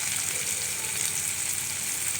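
Tomatoes and carrots sautéing in hot oil in a pan for carrot chutney, giving a steady, close, hissing sizzle that holds even and unbroken from start to finish, with no voices.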